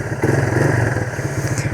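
A Yamaha YTM225 three-wheeler with a 5-speed semi-automatic runs nearby with a steady, throbbing single-cylinder putter, loud and continuous throughout the short stretch with no talk.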